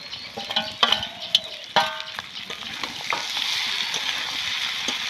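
Prawns go into hot oil in a pan with jackfruit, giving a bright, continuous sizzle punctuated by several sharp metallic clinks and scrapes of a stirring utensil near the start, then a steady frying hiss.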